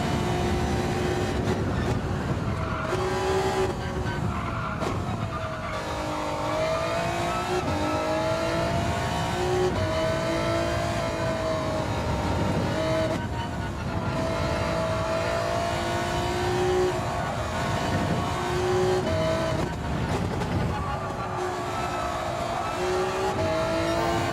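A race car in Gran Turismo 7 on the Spa circuit, its engine loud and continuous, revving and dropping in pitch through repeated downshifts with brief tire squeal, no voices over it.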